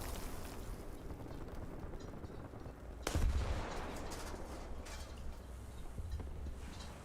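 An artillery strike in the tank game War Thunder, heard as one sharp blast followed by a burst of crackling impacts and rumble over faint battlefield noise, fairly distant and muted, no voices.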